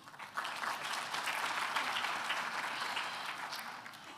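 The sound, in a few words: audience applause at a graduation ceremony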